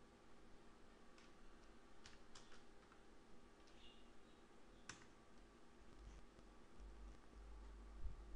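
Light, irregular clicks of typing on a computer keyboard, faint and close, with scattered keystrokes over a quiet room hum.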